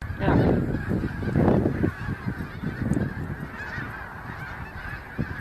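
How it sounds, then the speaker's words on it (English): Geese recorded in Kentucky honk loudly and repeatedly, a cluster of close, overlapping calls that thin out into sparser honks toward the end. "that's pretty indicative of this species of goose, or group of subspecies as well"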